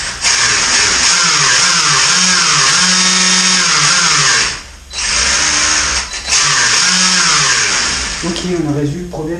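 Electric motor of an MJX 14211 RC car running after a restart, a loud high whine that rises and falls in pitch, cuts out briefly near the middle, then spins up again.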